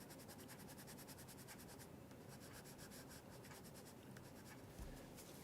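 A Holbein colored pencil scratches steadily across paper in quick, even back-and-forth strokes, close and faint, with no one talking.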